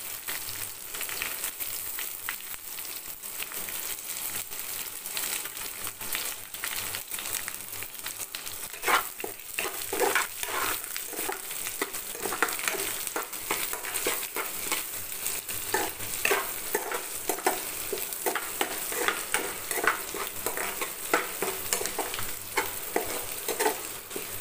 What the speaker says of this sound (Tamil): கொஞ்ச நேரம் நல்லா வதங்கட்டும்.